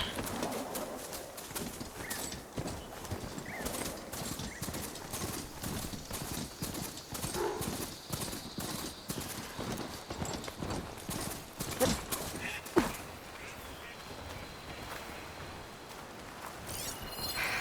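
Hooves clop rhythmically and continuously while riding a machine mount in the video game Horizon Forbidden West, moderately loud against faint bird coos and ambient sounds.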